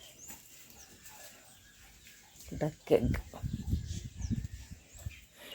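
Domestic farmyard with country ducks, a drake and two females, and a mother hen with newly hatched chicks; a burst of clucking and quacking rises midway, close and moderately loud, with people speaking nearby.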